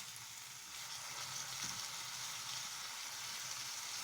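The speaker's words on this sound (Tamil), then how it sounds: "நல்லா அந்த இப்போ ஊற்றின சாஸ் எல்லாமே கலந்து வர்ற மாதிரி இந்த காயை வந்துட்டு நல்லா கிளறி விட்டுக்கலாம்" Vegetables with soy sauce fry in a pan for Schezwan noodles, giving a steady, faint hissing sizzle with barely audible stirring, no voices.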